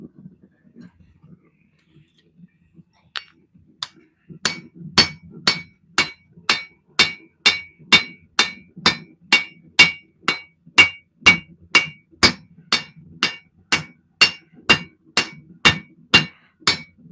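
Steady metal hammering at a forge in a home shop, a regular series of about twenty ringing strikes roughly every two thirds of a second, loud and close after a few quieter taps at the start.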